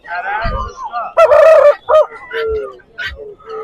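A rooster crows loudly and close by at the Sabunchu poultry market, with short clucks and other fowl calls following, and faint voices in the background.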